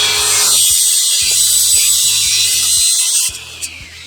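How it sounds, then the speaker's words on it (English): A track saw cutting through metal garage door guide rails, a loud close continuous high-pitched rasping whine for about three seconds that then stops, followed by a faint rhythmic mechanical ticking with no talking. "we're going to do it with a track saw because they sound the same"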